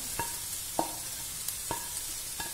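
Onions tipped into a pan of softened shallots frying in hot oil keep up a steady sizzle, while a few separate scraping knocks from stirring land roughly once a second. No one speaks.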